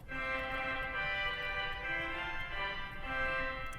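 A large church pipe organ plays its clairon 4-foot reed stop, a sustained, bright, piercing reed tone held as a loud chord with small note changes, ringing in a reverberant space.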